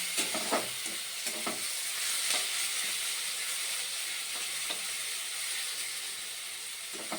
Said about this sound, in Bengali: ভালোভাবে একটু নাড়াচাড়া করব যাতে লাল লাল হয়